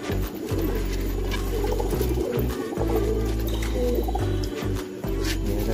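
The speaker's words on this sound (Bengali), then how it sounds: "মাদা পায়রা আছে" Racer pigeons coo in a low, throaty, repeated burble over a constant background hum, close by.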